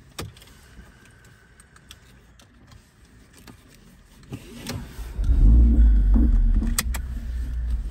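A car engine starting up: quiet rustling and small clicks, then a deep rumble builds as the engine catches and settles into a steady, fairly loud idle close by.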